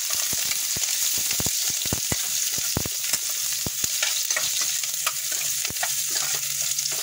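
Saluyot (jute leaves) cooking in a pan sizzle loudly and continuously, with frequent sharp taps and clicks of stirring against the pan throughout, close up and with no talking.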